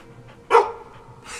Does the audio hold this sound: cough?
no